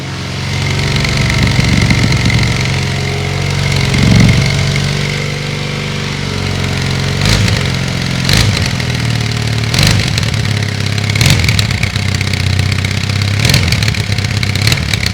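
A Triumph Bonneville motorcycle fitted with a new exhaust runs close by with a steady, low idling rumble, punctuated by several short sharp throttle blips in the second half.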